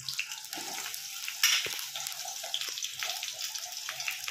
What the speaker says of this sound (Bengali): সেই বেগুনগুলোই আমি কিন্তু গরম তেলের মধ্যে ছেড়ে দিচ্ছি।